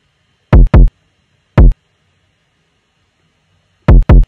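Heavy, overdriven kick drum hits from a drill beat land in short punchy bursts, two quick ones, a single one, then another quick pair, each booming and distorted with silence between.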